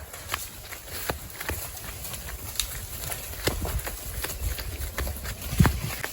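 Buffaloes run along a farm track with a steady, uneven patter of hoof steps close by, over outdoor background noise and a faint bird call.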